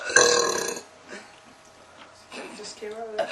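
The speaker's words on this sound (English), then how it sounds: "Did I burp enough for everybody?" A girl lets out a long, loud, deep burp up close, and a second, shorter burp follows. Other girls chat and laugh quietly in between.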